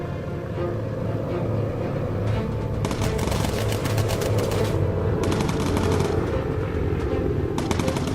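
Rapid machine gun fire from a bomber's turret guns in the World War II bomber game Bomber Crew, with repeated bursts of chattering shots over a steady roaring engine drone.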